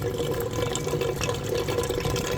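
Water draining through a homemade hydroponic NFT channel, a continuous close trickle and gurgle with no voices over it.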